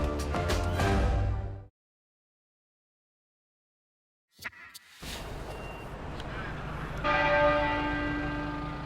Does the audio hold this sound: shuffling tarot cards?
no